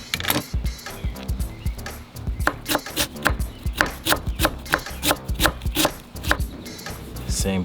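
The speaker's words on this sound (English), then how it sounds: "I'm gonna definitely cut this core out." A knife cuts the core out of a vegetable for coleslaw on a cutting board: rapid, close, crisp chopping strikes in an irregular rhythm, with brief pauses between bursts.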